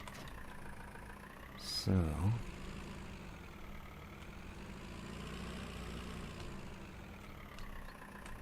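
A Mercedes tractor engine idles in Farming Simulator 19, a steady low rumble throughout, with someone talking briefly over it.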